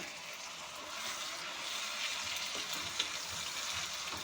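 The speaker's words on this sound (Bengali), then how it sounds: "ভালো করে ভেজে নেব।" Onion paste sizzles and fries steadily in a pan for a capsicum chicken curry, a soft, even hiss with occasional faint stirring.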